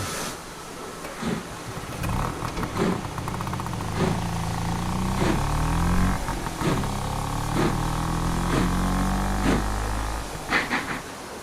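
A train engine slowly draws loaded wagons forward over a railway weighbridge, a steady low engine rumble with rhythmic clanks and knocks repeating every second or so, fairly close and continuous.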